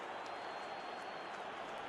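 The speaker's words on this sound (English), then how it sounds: "Even some of the opposing fans are clapping that." Football crowd applauding after a Manchester United goal, heard as a steady, distant wash of clapping from a large stadium audience with no single claps standing out.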